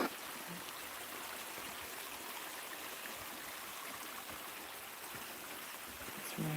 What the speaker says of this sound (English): Can you hear that alright? The Outwit River.